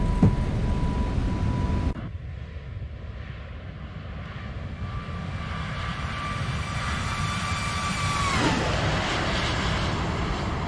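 Simulated Airbus A321neo in X-Plane 12 during takeoff and climb: a steady jet engine roar with a high whine, shifting tone partway through, alongside a constant electronic tone that sweeps down near the end.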